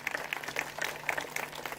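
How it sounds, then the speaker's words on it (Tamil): An audience at an Independence Day school event claps for the parents, a steady patter of many hands at moderate volume with no voices over it. "பலமான கைத்தட்டல் கொடுக்கலாம்."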